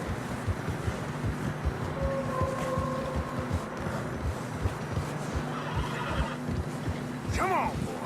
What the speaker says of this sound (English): Horses are struggling.